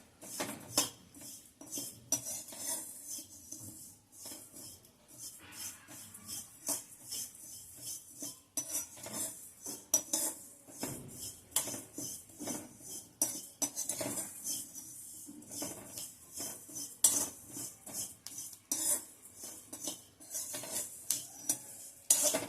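Fenugreek seeds are dry-roasted in a pan over a medium flame while a spoon stirs and scrapes them constantly, making repeated close metallic scraping and rattling strokes in an irregular rhythm.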